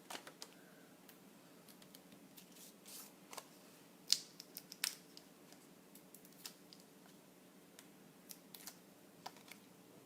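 Scissors snip paper for card making, a scatter of faint, quiet clicks and short crisp cuts spread irregularly across a near-silent room, with two slightly sharper snips standing out.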